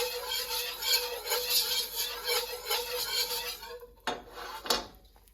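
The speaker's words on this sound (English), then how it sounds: "mash them with a potato masher, same as you would to make mashed potatoes" Potatoes being mashed with a potato masher in a pot, a steady scraping and squishing run of strokes that ends with a couple of sharp knocks of metal against the pan, fairly quiet with no talking.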